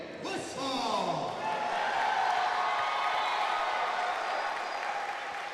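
Fans roar and applaud in the arena at a New Line Cagefighting event, a broad, sustained wash of crowd cheering that stays loud and steady, with a commentator's voice faintly mixed in.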